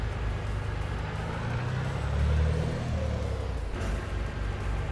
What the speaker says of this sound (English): The sound pack on this truck's absolutely amazing.